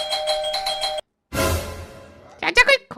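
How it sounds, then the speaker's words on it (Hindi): A doorbell at a gate rings in a bright two-tone chime, falls silent, then is followed by a burst of noise and a quick pair of short chimes, with voices heard nearby. "अरे तो घंटी बजा दे यार"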